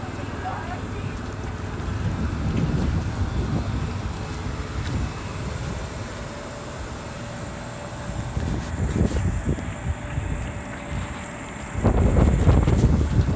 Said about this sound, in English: I'm on my phone and it's windy as hell out here